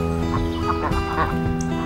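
Domestic meat-breed ducks raised over the summer quack close by in a short, loud burst of overlapping nasal calls.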